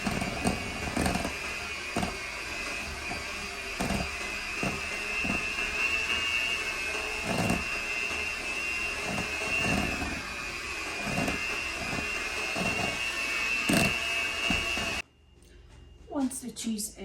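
Electric mixer beating cheese with powdered sugar for a triple-layer chocolate cheesecake, a steady whining motor hum with rhythmic knocks of the beaters against the bowl, running for about fifteen seconds before cutting off abruptly.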